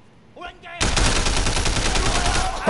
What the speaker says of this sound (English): Oh, wait, he's got a machine gun.